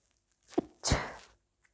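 A single close sneeze: a quick sharp intake followed by a loud, breathy burst that fades after about half a second.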